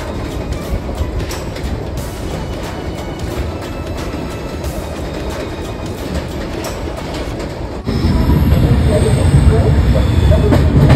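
Shatabdi Express train running from Howrah to Puri, a steady loud rumble with rhythmic clatter of wheels on rail that grows louder near the end, heard from inside the coach with some talking.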